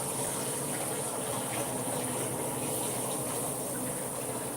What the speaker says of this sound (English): Time to wash my face